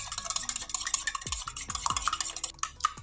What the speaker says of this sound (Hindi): अंडों को फोड़कर डालने के बाद इसे हम अच्छे से मिक्स कर लेंगे